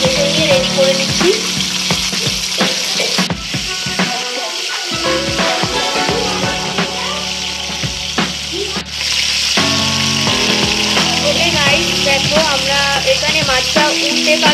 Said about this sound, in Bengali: এইভাবে কিন্তু মাছটাকে পুরোপুরি ভেজে নিচ্ছি